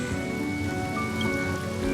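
Steady rain hisses in the Honkai Star Rail video game, a continuous patter running beneath sustained musical tones throughout.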